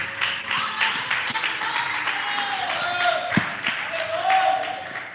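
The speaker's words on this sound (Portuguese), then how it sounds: "batendo palmas para Jesus" A church congregation claps together during an evening worship service, a steady crowd patter that rises and falls, with a few sharper taps and some voices mixed in.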